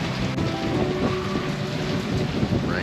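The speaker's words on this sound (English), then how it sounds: "Look at that. It's raining." Rain falls steadily in cool weather around a parked Harley-Davidson motorcycle, a dense, close hiss of drops on surfaces with some low rumble underneath and no talking.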